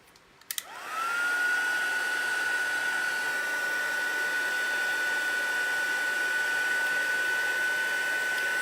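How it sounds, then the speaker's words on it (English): A heat gun for craft embossing switches on after a couple of soft clicks, its fan ramping up to a steady, loud whooshing blow with a thin whine that holds without a break. "stretch across for the heat gun, because I wasn't planning on doing an embossing"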